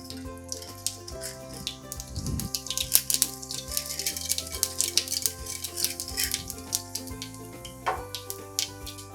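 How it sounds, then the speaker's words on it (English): Mustard seeds and urad dal crackle and sizzle in hot oil in a tempering pan, a busy stream of sharp pops and spits over a steady frying hiss, close and fairly loud. "Oil is hot enough now to add in the mustard seeds and urad dal."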